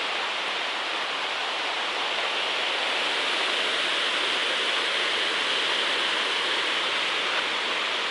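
A river flows beside the Appalachian Trail towpath on a warm day, a steady, full rushing wash of water that stays constant and fairly loud throughout, with no voices over it.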